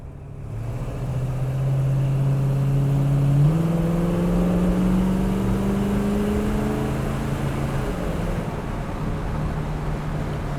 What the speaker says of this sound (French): Ça accélère tranquillement, c'est bien.